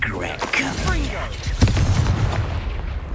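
The Incendio fire spell in Hogwarts Legacy lets out a loud whooshing burst with a booming crackle and a rumbling tail, over an overlapping voice.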